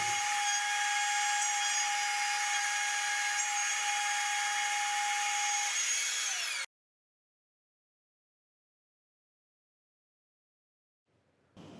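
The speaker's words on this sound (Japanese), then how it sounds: "徐々にビットの出を大きくし、ほぞ穴を仕上げていきます。" Trim router fitted with an up-cut spiral bit cutting a mortise, a loud steady high whine for about six and a half seconds that stops abruptly, followed by silence and a faint sound near the end.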